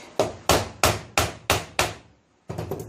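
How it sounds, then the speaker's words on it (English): A hammer strikes a Honda Gold Wing motorcycle starter five times in a steady rhythm, each hit a loud, sharp metallic knock, close by. After a pause, a quick rattling flurry of smaller taps follows. "Let's hit it with a hammer."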